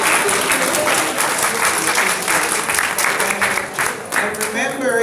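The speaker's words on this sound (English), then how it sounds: "please give our able timekeeper a big round of applause" Audience at a 2018 candidate forum applauds the timekeeper, a dense, steady round of clapping that fills the room, holding loud throughout and tapering slightly near the end.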